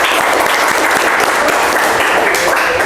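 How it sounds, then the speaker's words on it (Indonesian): Applause from a classroom audience, a dense, loud burst of clapping that fills the whole stretch without a break. "kasih aplaus untuk Hafiz"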